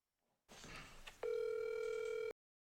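A telephone call goes through: a short muffled rustle, then a loud, steady electronic ringback tone that holds for about a second before cutting off abruptly into silence.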